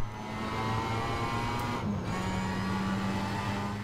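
A race car engine in Need for Speed Shift drones steadily for a few seconds, a constant mid-level whine with a brief dip and gear change partway through, no talking over it.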